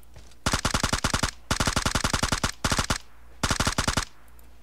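Automatic gunfire in the mobile game PUBG Mobile: four rapid bursts of loud, evenly spaced shots, each burst about a second long, with short pauses between them and no talk.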